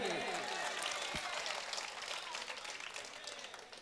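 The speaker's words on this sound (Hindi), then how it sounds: "तो जोरदार ताली बजाइए" Audience applause at a live poetry recital, a dense broadband wash of clapping that holds steady for the whole stretch and fades only slightly toward the end.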